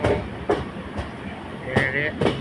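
Train pulling into Karunagappally railway station, running about twenty minutes late, with a sharp rhythmic clatter of wheels over rail joints repeating every half second, close and without voices.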